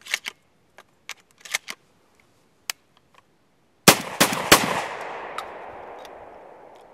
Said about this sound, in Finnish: Tuosta testataan vielä, että vintsi syöttää panokset kunnolla.